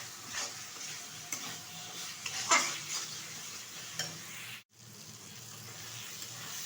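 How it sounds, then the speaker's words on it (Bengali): Goat fat being stir-fried with spices for ghugni sizzles steadily at close range, with repeated spatula scrapes and clinks against the pan and a brief sharp scrape near the middle, no talk. "এখন দিয়ে দেবো ধুয়ে রাখা খাসির চর্বি এবং ভালোভাবে কষিয়ে নেবো চর্বিটা মশলার সাথে"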